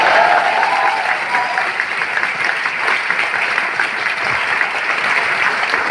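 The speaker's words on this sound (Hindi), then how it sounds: "थैंक यू सो मच आपकी तालियों के लिए।" Dense, steady applause from a large audience at a direct selling company event fills the space, loud and continuous without a break and with no voices on top.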